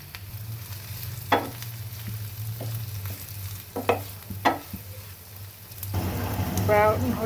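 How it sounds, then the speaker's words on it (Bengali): Chopped garlic and green chilies frying in oil, a soft steady sizzle with scattered sharp clicks of utensil stirring, swelling into a louder burst of frying near the end. "রসুন কুচি নিয়েছি, এগুলো তেলে ভাজব"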